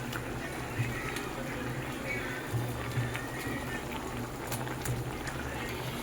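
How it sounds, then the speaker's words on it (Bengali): Bhola fish simmering in a bubbling mustard sauce, a steady close boil with continuous fine bubbling and a low hum, a few soft thumps as pieces go in. "এবার আমি একে একে এই মাছগুলোকেও ছেড়ে দেব।"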